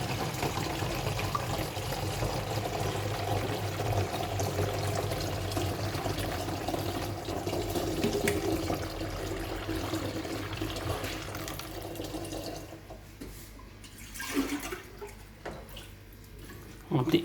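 Water pours continuously into a container for a shrimp tank, a steady close splashing rush with low hum, tapering in the final seconds as bucket handling and small knocks appear.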